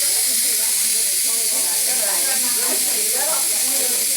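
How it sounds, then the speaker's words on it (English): Steam vents from an Instant Pot pressure cooker as a loud, continuous broadband hiss, while people talk underneath the rush. "I'm letting all the steam off on the pressure cooker, on the Instapot"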